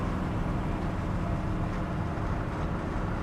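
A 1979 Dodge Li'l Red Express pickup cruises at about 50 mph, its engine and road noise forming a steady, loud low rumble from inside the cab, with no talking.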